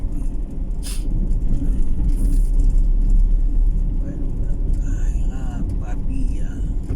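Busy highway traffic in Pavia, Iloilo City, Philippines, with a steady low rumble of passing cars and heavier vehicles close by, plus brief higher mechanical squeals and a faint voice.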